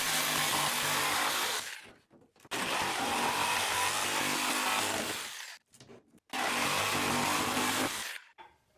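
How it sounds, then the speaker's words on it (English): Power saw cutting sheet wood panels for a birdfeeder, three long loud bursts of broadband whine and rasp separated by brief pauses, close and with no voices. "Now we want to cut 2 7 by 13 inch panels from our sheet wood."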